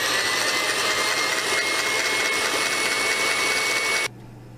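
An electric mixer with a whisk attachment whirs steadily and loudly for about four seconds, then cuts off abruptly, leaving only a faint low hum.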